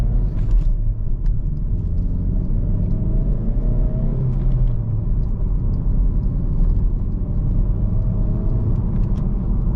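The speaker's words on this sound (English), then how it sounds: "Provides an aggressive exhaust sound." A 2011 Subaru WRX with a six-speed manual gives a steady, deep engine and exhaust rumble while driving, heard from inside the car as a continuous drone with mild rises in revs and no talking.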